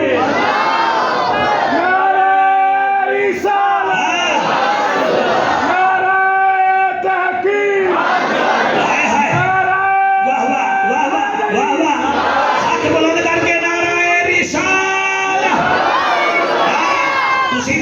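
A large crowd at a religious gathering shouts slogans in loud, rhythmic bursts, voices swelling together and falling back repeatedly, close and energetic throughout.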